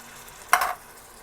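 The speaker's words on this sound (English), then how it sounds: "And give it a quick stir" A single quick stir of Rotel tomatoes and green chilies into cheesy beef macaroni, a short wet scrape and sizzle lasting about a quarter second in an otherwise quiet moment.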